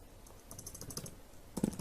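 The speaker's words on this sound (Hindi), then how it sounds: "यहाँ पर लिख देते हैं एट्रीब्यूट्स" Command typed on a computer keyboard to set a USB flash drive to read-only: a short flurry of quick, close keystrokes over faint background noise.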